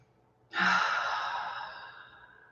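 A single long, airy exhale during a slow, intentional calming breathing exercise, rising suddenly and then fading gradually over about two seconds, close and fairly soft, with no talk.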